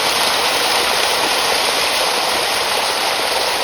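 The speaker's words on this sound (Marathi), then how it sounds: "कसा आहे धबधबा." A waterfall beside a cave in hilly country gives a steady, loud, broadband rush of falling water that continues unbroken with no voices.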